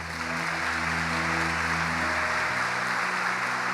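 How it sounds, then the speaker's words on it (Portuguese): A church congregation applauds in a continuous, dense wash of clapping that fills the room, with sustained keyboard or organ tones ringing underneath. "Dê um aplauso a Ele."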